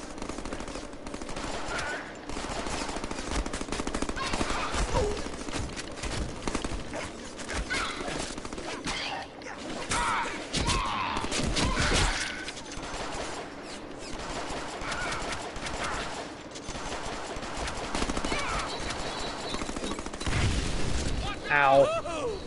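Gunfire in the Deadpool video game: rapid bursts of shots and booms crackle through a busy, loud stretch of combat, with character voices talking over the shooting.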